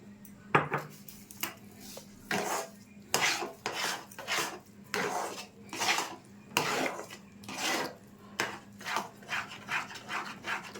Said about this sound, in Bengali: অনবরত নাড়তে হবে এটাকে।